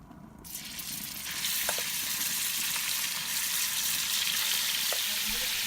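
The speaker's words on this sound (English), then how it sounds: "The Dutch oven is already hot now, so I will add some oil. And as a first step, I start roasting the minced meat gently." Minced meat roasts gently in oil in a hot Dutch oven outdoors. After a quieter first second, a steady, close sizzle rises and holds, with a few faint ticks and crackles.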